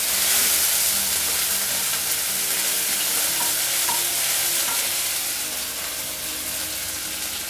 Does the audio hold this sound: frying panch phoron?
yes